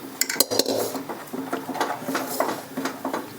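A spoon stirs a semolina mixture in a pot to keep lumps from forming, producing quick, uneven scraping and tapping against the metal, close and continuous without talk.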